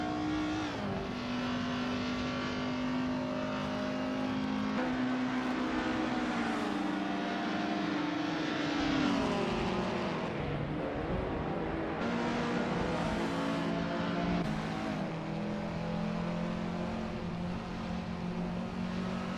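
A 1970 Ford Mustang Boss race car engine in a racing video game, holding a steady high drone that rises and dips through gear changes, with other cars audible along the track; no voices.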